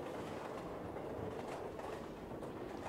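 Steady rumbling rattle of a train, played as a stage sound effect for a comedy sketch set aboard a Brazilian train, continuous and fairly loud with no talk over it.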